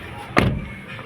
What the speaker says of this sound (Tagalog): Sarado natin yung pinto.